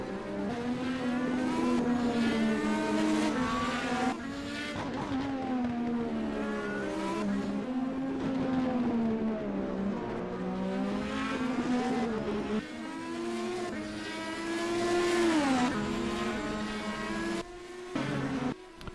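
IndyCar race cars at the Grand Prix of St. Petersburg scream past one after another, high engine notes rising and falling through gear changes and Doppler sweeps, loud and close with brief gaps between cars.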